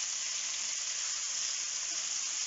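Steak sizzles in olive oil in a pan for a tagliata aglio olio e peperoncino dish, a steady, even hiss that stays close and continuous throughout, with no talk.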